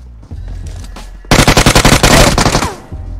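Rapid automatic gunfire bursts from the PUBG battle royale game at Georgopol, a loud sustained stream of closely spaced shots after quieter opening moments.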